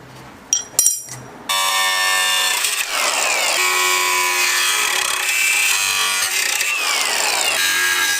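A power tool cuts a 1/8-inch aluminum strip for homemade sway bar spacers. A few sharp clicks come first, then a loud, continuous metallic whine with a harsh rasp, wavering slightly as the blade works through the metal.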